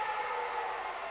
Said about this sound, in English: siren going off